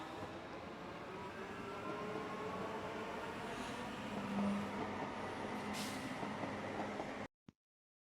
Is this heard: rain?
no